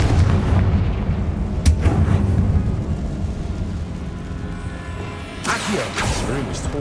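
The Confringo blasting spell goes off in Hogwarts Legacy as heavy booming explosions, a loud rumbling blast early on and a second sharp burst near the end, both over a low, continuous game soundscape.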